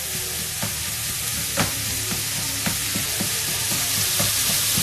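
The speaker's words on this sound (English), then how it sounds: "I'm just going to cook this like I would ground beef. So You want to chop it up with a spatula." Vegan mince frying in a pan for wonton soup, a dense continuous sizzle broken by regular taps and scrapes as a spatula chops it up, heard up close without talk.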